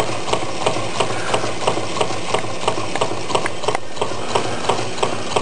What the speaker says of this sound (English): The knocking sound you hear is the displacer banging the bottom end of the cylinder.